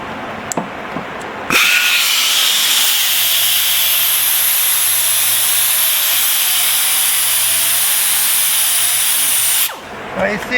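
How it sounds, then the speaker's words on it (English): A 3-inch power sander grinds fiberglass filler on a 1976 Charger roof seam, a loud, close, steady high whine that holds for about eight seconds with a slight wavering pitch, then cuts off abruptly. "I'll take a 3-inch sander and sand out that fiberglass filler"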